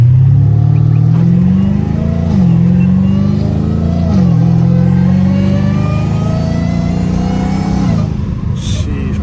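Catless Dodge Challenger Hellcat Redeye supercharged V8 with catback exhaust, heard from inside the car as it accelerates hard through the gears. A loud, continuous roar rises in pitch with each shift, with supercharger whine running on top and no talk.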